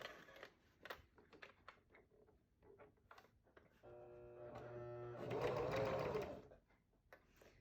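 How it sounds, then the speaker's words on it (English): A sewing machine stitches quilt pieces, first with faint ticks and clicks, then with a whirring run of stitching that swells louder before stopping, all quiet and close. "Now to sew it up."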